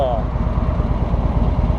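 A 2017 Harley-Davidson Road King with a Milwaukee Eight 107 cubic inch engine idles low and close, a steady loping throb with rhythmic pulses throughout.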